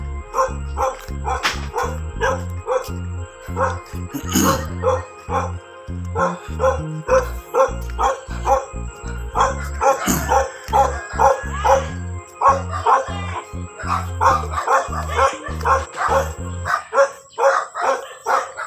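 A dog barks repeatedly in rapid, uneven bursts, fairly close, with occasional yips and faint voices in the background, outdoors in Bonbon, Clarin, Bohol.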